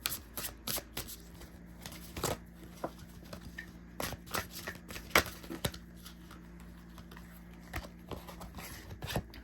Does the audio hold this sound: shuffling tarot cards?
yes